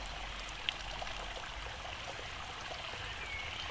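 The river Withywindle flows in a continuous soft rush and trickle of moving water, faint and steady, with one small splash or drip standing out briefly.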